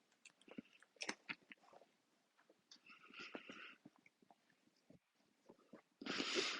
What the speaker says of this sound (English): If you hear chewing, it's because I'm munching on a bagel.